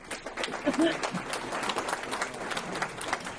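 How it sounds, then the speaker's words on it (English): Applause for Kevin fills an office event, a steady dense patter of many hands clapping under brief overlapping voices, holding at an even moderate level throughout. "Please give a warm round of applause for Kevin."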